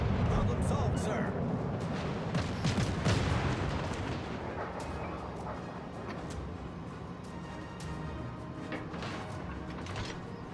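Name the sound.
Mikasa secondary guns firing in World of Warships Legends video game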